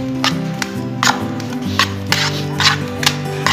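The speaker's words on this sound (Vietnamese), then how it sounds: "các bạn có dùng muỗng nè, các bạn trộn đều lên" A spoon scraping and knocking as it stirs a peanut fish bait mixture in a container, a series of sharp, irregular clicks and scrapes, close and fairly loud, over a faint background hum.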